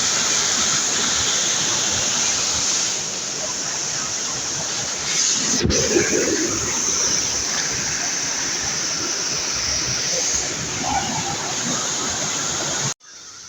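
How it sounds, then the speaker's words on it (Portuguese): Steady broadband rush of water at Morungaba waterfall in the Serra do Japi, continuous and fairly loud with wind on the microphone and a brief bump midway, then cutting off abruptly at the end. "aqui em cima da cachoeira Morungaba"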